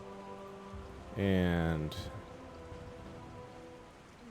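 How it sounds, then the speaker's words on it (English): Rain sound effect playing during a tabletop role-playing session, a steady soft patter of falling rain beneath a brief burst of speech partway through. "It's still raining, but much less."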